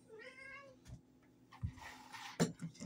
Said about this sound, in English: She's our old kitty. She's gripey.